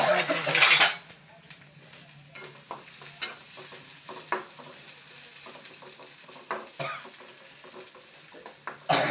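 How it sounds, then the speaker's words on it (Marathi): Onion frying in a small amount of oil in a pan and being stirred: a steady sizzle broken by repeated scraping and clinking of the spoon against the pan, close and fairly quiet, with no talking. "कांदा भाजून घ्यायचा."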